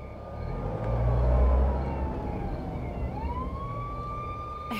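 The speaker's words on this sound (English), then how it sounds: "Ambulance is coming in." A wailing ambulance siren sweeps up and down in pitch over steady traffic rumble, approaching steadily and staying loud throughout.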